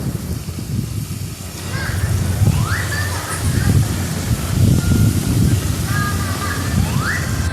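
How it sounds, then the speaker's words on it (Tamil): Tomatoes sautéing in oil in a curry pot for chicken gravy give a steady broadband sizzle and slosh throughout, with faint chirpy tones above. "இப்போ நம்ம குழம்பு பாத்திரத்தில் தக்காளி போட்டு நல்லா வதக்கிக்கலாம்."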